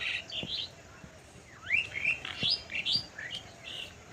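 Several birds, including drongos, chirp and tweet in short, bright bursts, some overlapping, against a quiet morning background in a village field.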